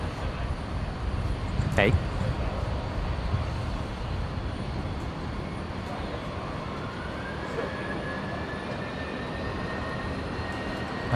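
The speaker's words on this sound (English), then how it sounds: "Qantas 525 cleared for takeoff, runway 19 left." A Qantas airliner takes off from runway 19 left at Brisbane Airport, heard as a steady, distant jet roar building under a crackle of voices and radio chatter, with a brief sharp knock early on.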